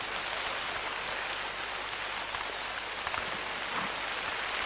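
Steady rain pours down in the hunting game The Hunter, a dense, even hiss of drops on surfaces that holds at constant loudness throughout, with no voices.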